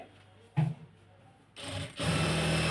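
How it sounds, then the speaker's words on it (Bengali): A sewing machine stitches lined georgette fabric for a kameez, starting with a short burst and then running in a loud, continuous whir that fills the last second alone. "একটা যেভাবে সেলাই করতেছি বাকিটা সেভাবেই করব"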